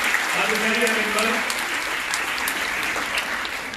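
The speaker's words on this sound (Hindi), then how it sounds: "एक बार जोरदार तालियां बजाइए" A hall full of people at a sewing machine distribution event run by a charity breaks into steady, dense clapping that carries on without a break, with a faint murmur of voices underneath.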